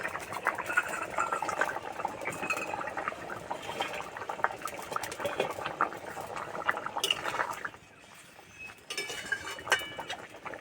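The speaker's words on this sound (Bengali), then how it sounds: "তরকারি ঝোল খুব ভালোভাবে ফুটে গেছে" A pan of fish curry broth with potatoes boiling vigorously, a dense close bubbling and gurgling with occasional faint clinks, steady for several seconds before briefly quieting and resuming.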